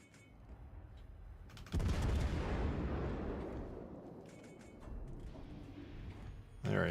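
A ship's heavy guns fire in a naval battle game, a single deep booming blast followed by a long rumbling decay, then further softer reports and another blast at the end, with no talk.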